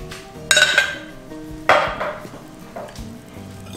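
Milk, oil and salt stirred together in a pot for a corn flake cake, with two sharp clanks of a utensil against metal followed by softer scraping and knocking, close and without talk.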